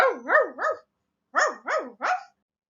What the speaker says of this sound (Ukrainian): Розсердився песик та як загавкає на все горло.